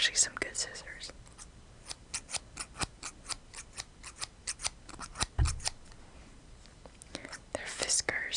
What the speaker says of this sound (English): I have some scissors. These are actually some good scissors.